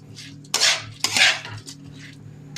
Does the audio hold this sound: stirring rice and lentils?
yes